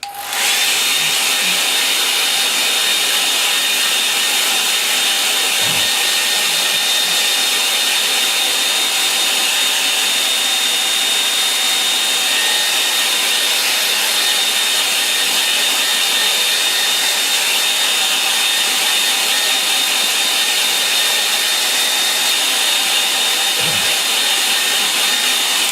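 A hair dryer blows steadily on a drying watercolour painting of a lake with seven small islands, a continuous loud whirring hiss that runs unbroken throughout with no talk.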